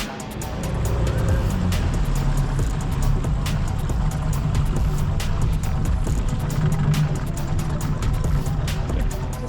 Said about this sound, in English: Just letting the engines idle over.